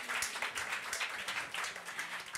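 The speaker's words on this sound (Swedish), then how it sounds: "En applåd först." Audience applause at a Swedish public talk on a government inquiry, a short burst of many hands clapping, fairly faint and distant, steady throughout.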